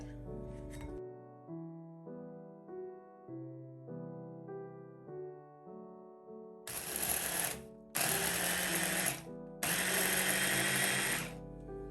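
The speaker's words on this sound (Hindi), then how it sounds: "सबसे पहले हम बिस्किट का चूरा कर लेंगे।" Plain cream-free biscuits are ground into crumbs in a blender or grinder for a no-bake strawberry cheesecake base, three loud whirring bursts with brief pauses between them, following a stretch of soft background music.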